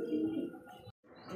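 A brightly coloured domestic pigeon coos close by in a short, clear burst, the soft low cooing broken by a brief silent gap before resuming.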